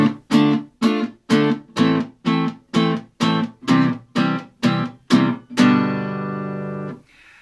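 Guitar chords strummed with the palm muting them, about eleven short choked stabs in a steady rhythm, close and fairly loud, ending on one chord left to ring out.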